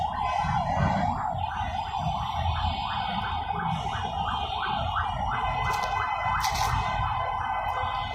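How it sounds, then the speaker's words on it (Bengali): In city traffic, an ambulance siren wails in a steady, rapidly repeating rise-and-fall cycle, loud and continuous over a dense rumble of vehicles. "তারপর অ্যাম্বুলেন্সের সাইরেন শুনতে পাচ্ছেন"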